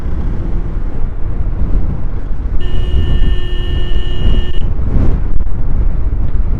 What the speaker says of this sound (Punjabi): ਬਹੁਤ ਤੇਜ਼ ਹਵਾ ਵਗਦੀ ਐ ਇਸ ਇਲਾਕੇ 'ਚ